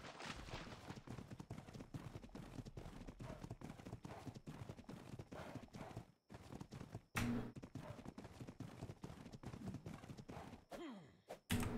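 Horse hooves clip-clop in a steady, rapid rhythm in the game ARK, loud and close throughout, with a brief break partway and a few sharper knocks near the end.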